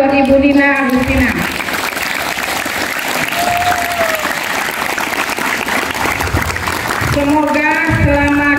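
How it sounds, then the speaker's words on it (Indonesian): Sustained applause from a school audience at a Ramadan welcome event at a junior high school, a dense crowd clapping for several seconds with a voice over a loudspeaker at the start and end. "tepuk tangan buat Ibu Nina Agustina."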